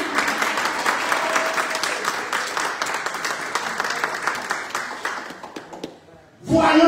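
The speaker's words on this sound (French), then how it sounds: "Ça ne mérite pas un applaudissement." During a church worship and praise service, the congregation applauds in a sustained, even wash of clapping for several seconds. It then fades out briefly before a voice begins speaking at the end.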